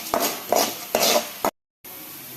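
Spices such as cloves and dried coriander seeds fry in a pan. A spoon scrapes and stirs in four rhythmic strokes over a hissing sizzle, then a brief silence gives way to a steady, even sizzle.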